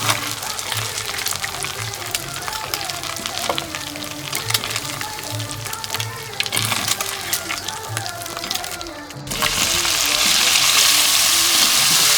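Octopus sautéing in oil makes a dense, continuous crackling sizzle with constant spattering. Near the end it swells suddenly into a louder, brighter hiss.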